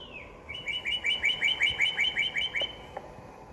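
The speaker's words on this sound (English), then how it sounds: "Dear little bird, see how tame it is." A tame little bird chirps a rapid run of about a dozen bright, evenly spaced notes, close and clear against quiet background with no talking.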